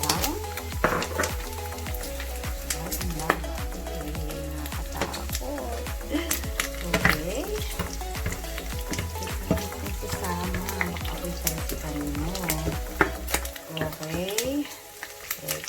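Garlic fries in hot oil for an Ilocano-style ginisang munggo, giving a dense, steady, close sizzle and crackle that fills the whole stretch, with voices heard at times.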